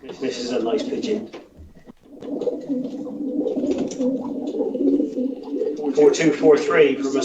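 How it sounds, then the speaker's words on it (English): A racing pigeon coos in repeated soft, throaty phrases close by, with someone talking over and between the calls and a brief chirp near the end. "This is a nice pigeon."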